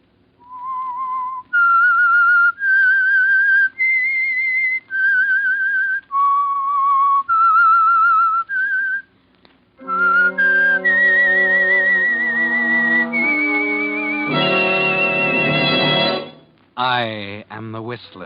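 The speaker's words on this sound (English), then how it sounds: "That whistle is your signal for the Signal Oil Program" The Whistler theme from the classic radio suspense show, a lone human whistle of sustained, eerie melodic notes, followed by an orchestral swell of held chords that rises and ends with a wavering flourish.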